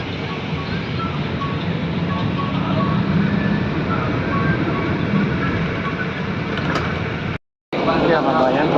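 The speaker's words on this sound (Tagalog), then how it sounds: "Dito na sa loob ng bus." Riding inside a bus heading into Abu Dhabi City: a steady interior rumble and road drone runs throughout, broken by a brief cut near the end, with no words spoken.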